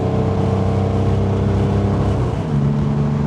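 A 1951 Chevrolet Bel Air restomod drops into passing gear around 65, its engine holding a steady, close droning roar that deepens in pitch near the end as it pulls harder.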